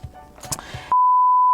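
A nail drill machine from a Korean nail-care unboxing, the Nailabo Petit model, gives one long, steady, loud electronic beep as it switches on, following soft handling noises.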